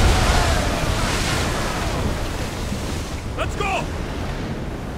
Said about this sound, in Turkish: Abi dalgalar inanılmaz ya.